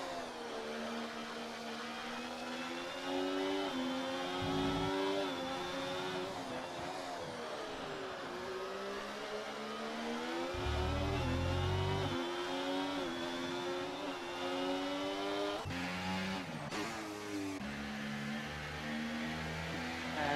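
Racing car engines in a sim racing video game, several cars whining and revving close together through a corner with brief contact, steady loud drone with rising and falling pitch and a couple of heavier thumps.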